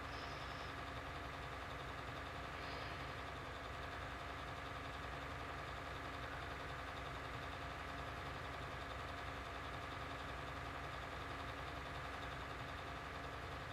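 Tractor engine in the Farming Simulator 19 video game, a steady low droning hum as it drives along a countryside road, constant and unbroken with no talk.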